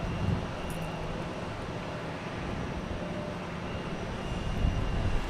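A Delta Boeing 737-800 airliner lands at Boston Logan after a flight from LaGuardia, giving a steady, distant broadband engine roar that swells slightly near the end.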